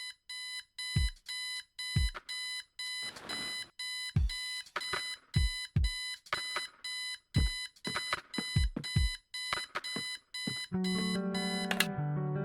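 An alarm clock in the video game Kathy Rain rings with a steady run of loud, evenly spaced electronic beeps, closing on a brief shift to a different tone.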